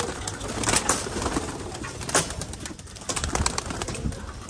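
Soft cooing of pigeons with scattered flutters and rustles, fairly close, over a steady background hiss.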